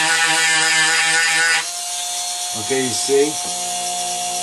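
A power tool grinds grime off a bicycle frame under very light pressure, giving a loud, steady high whine for about a second and a half before it stops and a person speaks.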